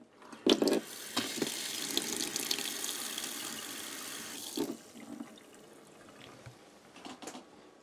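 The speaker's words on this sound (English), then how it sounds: "We have running water here." Water pours from a tap into a sink at a deer camp in a steady splashing stream, close by, then shuts off, leaving a few drips and clunks.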